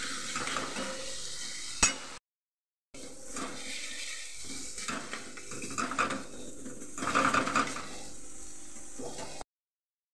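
A spatula scrapes and stirs taro leaf curry in a pan, spiced with turmeric, chili, cumin and coriander powders and a little sugar, with soft sizzling and uneven clatters broken by two short silent gaps.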